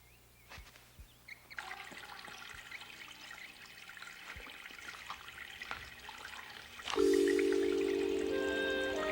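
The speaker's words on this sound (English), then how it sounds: "I'm gonna take a shower." Shower water runs steadily in a bathroom, a continuous hiss that starts soft, builds after a couple of seconds, then swells louder and fuller near the end, with faint clanks and no speech.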